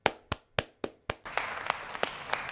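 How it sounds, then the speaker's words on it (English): A lone pair of hands claps slowly and deliberately, about five sharp, close claps, before quicker claps continue over a steady background hiss. "I can't do anything but clap in disgust"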